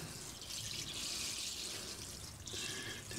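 Water poured from a small watering can onto freshly planted tomato seedlings, a steady close trickle and splash running continuously with a brief change near the end.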